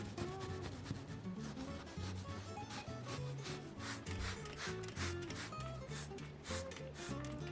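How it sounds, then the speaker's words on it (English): Small brush scrubbing a cleaning product into a surface, a steady close-up back-and-forth rubbing and scratching that continues throughout. "I'm just using a little brush here to kind of rub it in"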